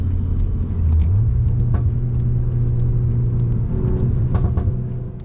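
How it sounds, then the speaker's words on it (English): A 2024 Volkswagen Golf R's exhaust in Nürburgring mode rumbles loud and close, with a deep steady drone that rises in pitch after the first second, then holds under light crackles and pops before easing at the end. "the exhaust in this mode, specifically in Nürburgring mode, is really chatty"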